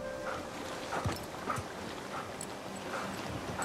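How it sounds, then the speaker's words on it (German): A dog in the video game Uncharted 4 whimpers faintly in a few short, scattered whines over a hissy, muted game ambience. "Ist nur der Hund."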